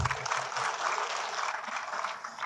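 Applause from attendees at a welcome reception with the acting governor, a fairly faint, steady patter of clapping from a group that continues evenly without a break.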